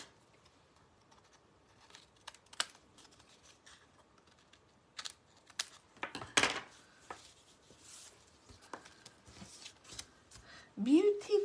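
Paper trimmed off handmade festive framed craft tags, with scattered crisp snips and rustles that grow denser and louder toward the end, while a person talks quietly in the background.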